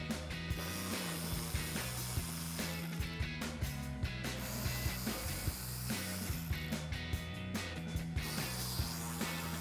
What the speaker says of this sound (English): take my 10mm socket on my ratchet and remove those